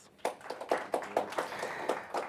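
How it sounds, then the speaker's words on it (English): Applause for panelists at a renewable energy investment discussion, heard as a short run of light, evenly spaced claps from a small number of hands, fairly close and brief. "So how about a round of applause for our panelists?"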